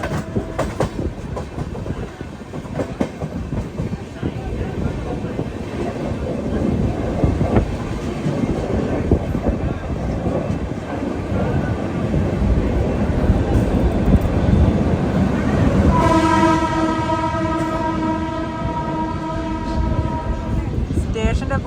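An express train rolls into Vadodara Junction with a loud, continuous rumble and rail clatter, and a long horn blast sounds near the end; a voice speaks briefly.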